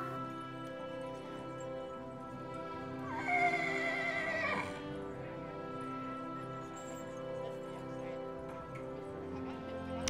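An Akhal-Teke horse lets out a loud, wavering whinny lasting about a second, heard over a sustained musical background.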